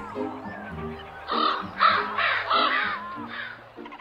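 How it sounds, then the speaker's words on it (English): Several ravens in a star fruit tree give repeated harsh caws, about five loud calls in an uneven series over a low background. "The big raven and its folks ate almost every star fruit on the tree."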